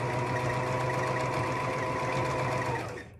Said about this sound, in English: Lift the presser foot, pivot, put the presser foot back down and sew to the end.